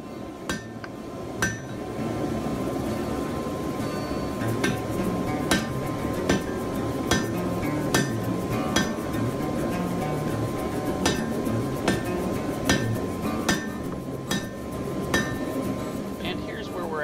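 Hammer blows ring on hot steel as a spear and its socket are forged, with the waist refined after fullering; sharp metallic strikes land in a steady, fairly regular rhythm over a constant roar of forge noise, close and loud.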